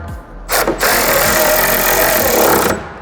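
Wing mount bolts are tightened on an ND Miata during a Voltex Type 12 swan-neck wing install. A brief scrape comes first, then a loud, sustained grinding rasp lasting about two seconds, close up.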